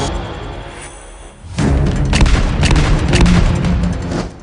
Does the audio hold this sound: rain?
no